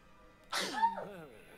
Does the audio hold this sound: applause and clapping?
no